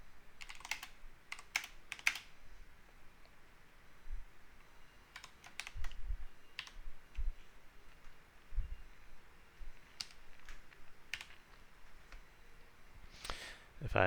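Irregular clicks of keys being typed on a computer keyboard, fairly quiet and close, over a low steady background hum.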